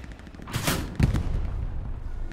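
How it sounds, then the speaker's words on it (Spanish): Gunfire in the Hell Let Loose World War II shooter game: a couple of heavy shots ring out with booming low reports and trailing echo, loud and close, with no talk over them. "Disparo ahí, a ver si rompo algo."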